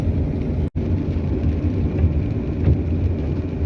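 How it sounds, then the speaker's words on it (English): Steady rain falling outdoors during a workday, a dense continuous hiss with a brief dropout early on, no voices present. "And just to add insult to injury, it started raining."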